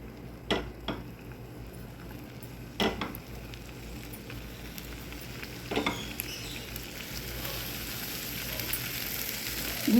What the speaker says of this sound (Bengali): এখন মাছটা ভেজে নিব।